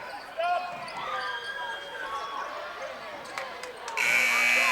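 A loud electronic end-of-quarter buzzer sounds near the end, following gym noise from a girls' high school basketball semifinal, with sneakers squeaking, balls thudding and voices calling out.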